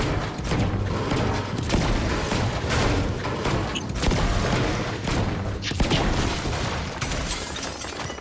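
Rapid gunfire from an online shooter video game, with dense bursts of shots and booming impacts cracking continuously at close range throughout.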